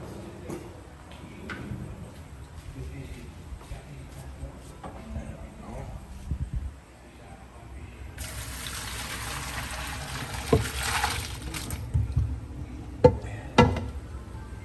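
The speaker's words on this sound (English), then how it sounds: "So let's come around here and I will drain the spaghetti." Cooked spaghetti water pours out of a pot into a drain, a rushing splash of liquid in the middle stretch with clanks of the pot and kitchen noise around it.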